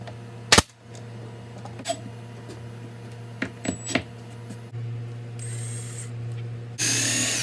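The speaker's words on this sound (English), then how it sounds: "Then I drilled some holes through the corner of each end of the tabletop." Power drill boring holes through the corners of a wooden tabletop for a flip-top tool stand: a hum with several short handling knocks, then a longer whirring run and a louder burst at the end, no voices.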